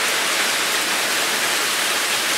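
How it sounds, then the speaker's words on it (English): Heavy storm rain pours in a steady, dense broadband hiss, loud and close with no letup, as if falling on and around someone sheltering outdoors during a power-cutting storm. "It's still raining on me."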